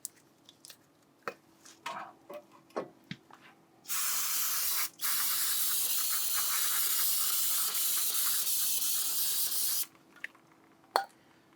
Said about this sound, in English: we'll just go ahead and give everything a little spray down